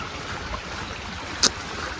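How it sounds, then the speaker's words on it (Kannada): A stream runs full and clear after days of continuous rain, a steady close rushing wash with one brief sharp click partway through. "ಇವತ್ತು ನೋಡಿ ನೀರು ಹರಿತಾ ಇದೆ"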